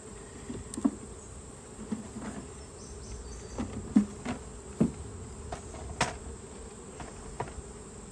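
Honeybees hum in a steady, low drone up close around frames being pulled from a nucleus hive box, with scattered clicks and knocks of the frames; no one speaks.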